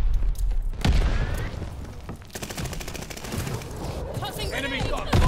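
Sniper fire in the Call of Duty: Vanguard video game: loud, sharp shots ring out near the start and again at the end, over a busy bed of combat noise and players' voices.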